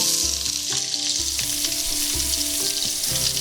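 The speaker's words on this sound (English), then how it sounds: "So we're ready to saute all the ingredients now, so we can add in our onion." Onion sautéing in a pan for a smoked Bicol Express, a loud continuous sizzle with the dull knocks and scrapes of stirring, with no talking.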